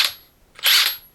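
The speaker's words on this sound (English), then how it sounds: "3 blasts of about a second on your impact, so we're going to try that" Impact wrench tightening a nut on a BMW E46 330i engine during a Vanos rebuild, two short sharp bursts a fraction of a second apart, close and loud with brief silence between.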